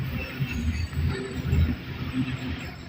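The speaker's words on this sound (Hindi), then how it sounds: "इस वक्त हमारी ट्रेन वन अप KCR बल्दिया रेलवे स्टेशन पर अराइवल कर रही है" The 1 Up KCR train arrives at Baldia railway station at roughly 30 to 35 km/h, its carriages rumbling in a steady, low rolling clatter heard from on board.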